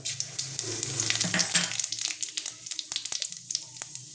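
Two bay leaves and whole cumin seeds crackle and sizzle in hot oil, a dense hiss at first that breaks into rapid popping and spitting.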